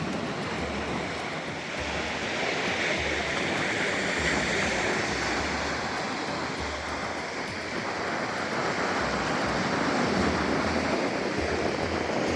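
Sea waves splash on rocks at Ponnani beach, where the Bharathapuzha meets the Arabian Sea, in a steady, unbroken wash of roaring surf that stays loud and close throughout, with no voices.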